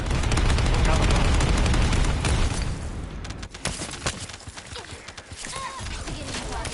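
Suppressing gunfire from air support in The First Descendant, a dense, loud barrage of rapid shots and blasts that fills the first few seconds, then breaks into scattered bursts and impacts under game effects.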